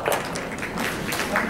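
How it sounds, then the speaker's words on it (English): Two sharp hand claps from a keynote speaker addressing a college convention audience, one near the start and one near the end, with a faint room hum between them. "I have to just say thank you and give you 2 claps."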